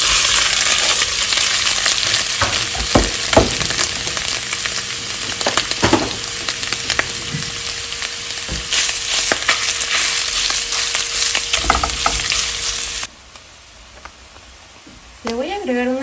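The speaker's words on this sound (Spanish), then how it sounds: "En una cacerola voy a agregar medio kilo de longaniza." Half a kilo of longaniza sausage sizzles and fries steadily in a pot, a constant crackle broken by clinks of a utensil against the metal, before the frying suddenly drops to a quieter hiss near the end.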